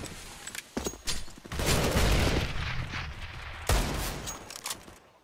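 Desert Eagle pistol fire in Counter-Strike on the Inferno map, several sharp shots and a rolling burst of gunfire from multiple weapons during a competitive match, loud with reverberant tails, no talk.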